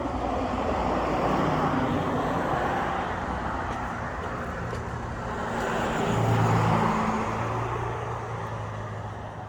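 A car drives fast past on a road during an outdoor walk, a steady broadband traffic rumble swelling as it nears and passes, with no one speaking.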